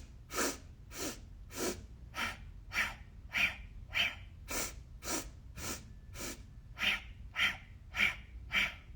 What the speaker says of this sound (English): We're going to take 4 sniffs in and 4 sniffs out.